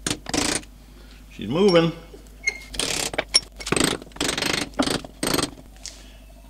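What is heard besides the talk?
pin punch hammered to drive off steering box part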